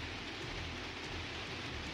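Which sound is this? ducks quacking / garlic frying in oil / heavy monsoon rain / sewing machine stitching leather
heavy monsoon rain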